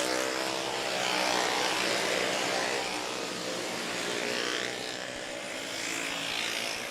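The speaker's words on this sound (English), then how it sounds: "in on the Sebastian Speedway at this time is the intermediate class" Intermediate-class karts race at Sebastian Speedway, their engines merging into a continuous, rough, buzzing drone that swells and fades slightly as the pack moves around the track at a distance.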